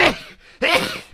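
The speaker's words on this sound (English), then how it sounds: "Oh, I'm gonna sneeze." Two sudden, loud sneezes in quick succession, each a sharp burst of breath, close up with no other sound around them.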